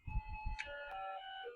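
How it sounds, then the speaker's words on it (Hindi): A short melodic electronic alarm chime plays a few descending tones, close and moderately loud, after a few soft knocks, with no talking. "आप अलार्म की घंटी भी सुन सकते हैं"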